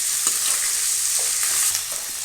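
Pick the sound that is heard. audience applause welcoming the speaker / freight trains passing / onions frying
onions frying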